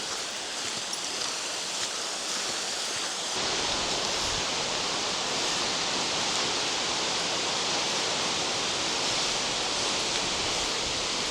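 A waterfall near Malham in the Yorkshire Dales makes a steady, broad rushing roar that grows fuller after a few seconds and continues unbroken, nearby, with no voices.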